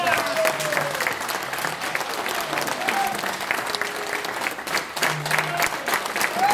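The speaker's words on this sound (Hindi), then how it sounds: "जोरदार तालियां" Sustained audience applause, dense clapping throughout with a faint murmur of voices underneath, steady and loud from start to finish.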